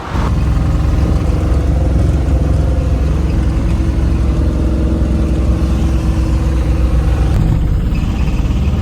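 An auto rickshaw engine drones loud and close during a ride, with a steady low rumble and road noise throughout and no voices.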